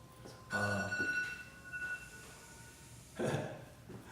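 A telephone rings twice in short bursts during a music lesson, faint and somewhat distant, with a quiet pause between rings.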